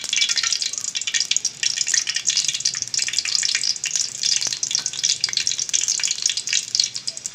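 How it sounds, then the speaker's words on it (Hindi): Cardamom pods sizzling and crackling in hot ghee for Punjabi makhandi halwa, a steady close frying hiss with small pops throughout. "देखें, हमारा घी जो है वो गर्म हो रहा है।"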